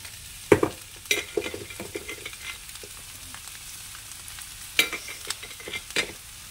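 Cooked rice is stir-fried with ground black pepper in a kadai. A spatula scrapes and clanks sharply against the pan at irregular intervals over a low, even sizzle, with no voices.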